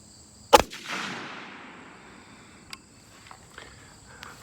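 A single sharp rifle shot from a Springfield 1903A1 at an outdoor range, a loud crack followed by a long decaying echo, then faint scattered clicks and insect chirps in the quiet afterward.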